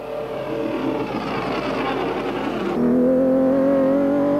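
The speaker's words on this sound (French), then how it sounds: "Maserati numéro 36 passe tout phare allumé, suivi de loin par une Porsche" Racing engines roar past during a 1955-56 sports car race, a Maserati, number 36 with its headlights on, followed at a distance by a Porsche. A broadband rush fades into a loud, steady engine drone with no talk.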